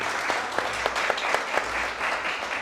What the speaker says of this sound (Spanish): para la cual pido un aplauso